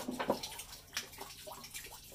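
Water draining out of a plumbing pipe near a hot water heater, a faint, continuous trickling and splashing with small irregular gurgles throughout.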